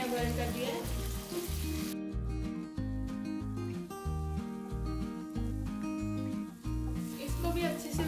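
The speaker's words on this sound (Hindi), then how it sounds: "इसको भी अच्छे से भून लेंगे ताकि स्मेल नहीं आए।" Ginger garlic paste frying with browned onions in a pan, giving a steady, close sizzle that runs throughout with a tonal background underneath.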